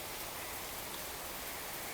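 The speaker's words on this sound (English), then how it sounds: "Here also it started raining" Steady rain falling outdoors onto plants and surfaces, a dense, even hiss of drops close by that continues without breaks and without talk.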